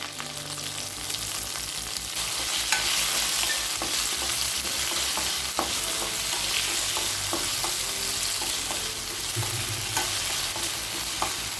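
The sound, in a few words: okra being sautéed in a pan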